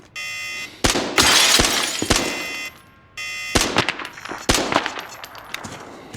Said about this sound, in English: Lovely alarm.